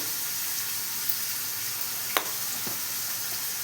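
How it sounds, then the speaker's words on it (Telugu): Onions and green chillies fry in a pan, a soft, continuous sizzle with a couple of faint utensil clinks partway through. "తర్వాత ఇది ఆనియన్స్, పచ్చిమిర్చి వేసేసుకున్నామండి. వేగుతున్నాయి కదండి."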